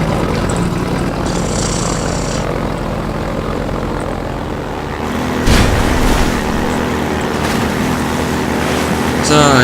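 Helicopter in the video game Half-Life 2, a continuous loud rotor and engine drone that swells and shifts partway through, with game effects layered over it and no talk.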